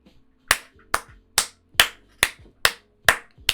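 Eight sharp, evenly spaced claps used as a comic sound effect, each crisp and isolated with a short decay and near silence between.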